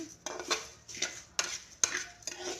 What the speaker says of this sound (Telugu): అవి కూడా కొంచెం దోరగా వేగిన తర్వాత ధనియాలు వేసుకోవాలి ధనియాలు కూడా త్వరగా వేయించుకోవాలి